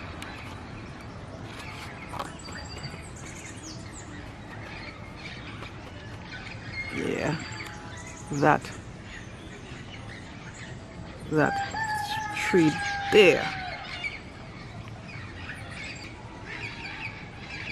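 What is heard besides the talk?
wild parrots squawking in trees in Trinidad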